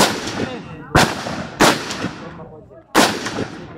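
Gunshots fired during marksmanship training, four sharp, loud reports spaced unevenly about a second apart, each trailing off in a reverberant decay outdoors.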